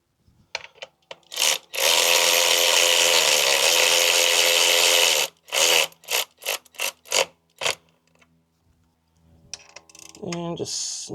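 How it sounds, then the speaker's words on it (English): A power tool, most likely an impact driver, runs in one sustained burst of about 3.5 seconds and then several short bursts while the last bolt goes into an air/oil separator install on a 2022+ Subaru WRX. It is loud and close, and a bit of talk follows. "Let's get this last bolt in."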